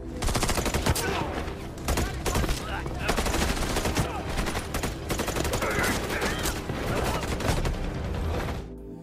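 Dense, continuous gunfire from a film shootout in which a captain and his men are shot dead; rapid overlapping bursts and single shots blast loudly throughout without pause.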